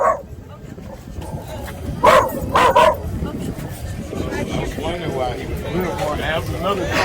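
Outdoors in Los Angeles, a dog lets out two sharp, fairly loud barks a moment apart, with a whimpering yip at the start and people talking throughout.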